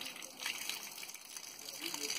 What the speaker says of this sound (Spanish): Telmito ahorita se está lavando las manos